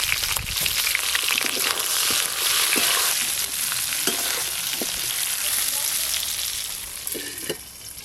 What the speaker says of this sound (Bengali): ওই একই তেলে কেটে ধুয়ে রাখা বেগুনগুলো হালকা করে ভেজে নেব।